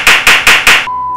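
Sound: clapping

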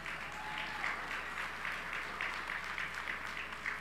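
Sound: audience applause

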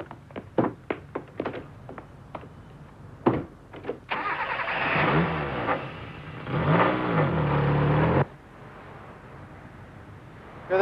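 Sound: car engine starting and driving off

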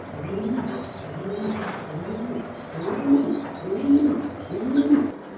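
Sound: racing pigeons cooing on a pigeon farm

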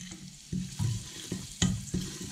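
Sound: caraway seeds frying in rendered bacon fat

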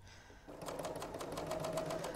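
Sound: serger sewing machine stitching quilt bow tie

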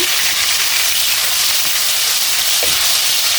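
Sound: mustard paste frying in mustard oil for pickle

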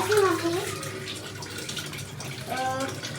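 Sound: water running while washing dishes

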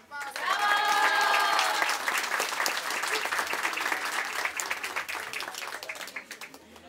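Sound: audience applause

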